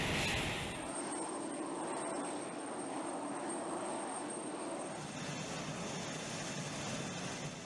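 US military jet engines run on the ground before takeoff, giving a continuous loud roar and rumble with a high whining tone. The sound is steady over several seconds, with no voices.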